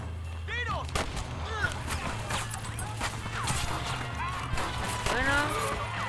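Gunfire in the video game Red Dead Redemption: repeated sharp shots and bursts over a steady low hum, mixed with shouting voices and other game sounds.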